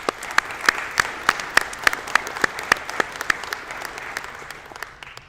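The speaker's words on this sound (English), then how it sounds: "you all deserve a round of applause as well" Families in the audience at an EMS coining ceremony receive applause, with a crowd clapping steadily and a few loud, rhythmic claps standing out close by at regular intervals before fading toward the end.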